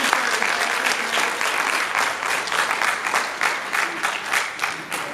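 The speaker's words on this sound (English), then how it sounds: "Clap it up one more time, Mr. Kenney." An audience at the St. Helena Band Banquet 2021 applauds guest speaker Anthony B. Kenney. The clapping is dense, steady and close, with a faint crowd murmur underneath, and it swells and dips slightly before easing toward the end.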